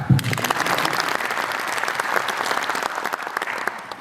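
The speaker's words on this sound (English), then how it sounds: "I think you needed another clap." Warm applause from an audience at a Ugandan event on Nile Basin water cooperation, honoring the host: loud, dense, steady clapping throughout that tapers slightly at the end.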